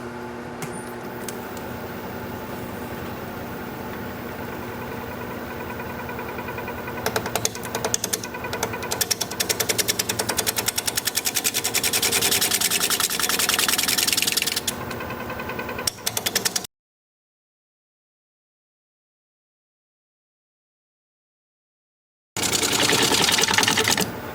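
A wood lathe turns a pine bowl at 600 RPM with carbide tools, giving a loud, continuous rattling, chattering drone close by that cuts out to silence partway through and then resumes.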